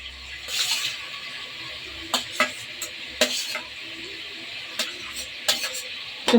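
Onions fry in a pan for chicken biryani, giving a soft sizzle broken by sharp clinks and scrapes as they are stirred, close but fairly quiet.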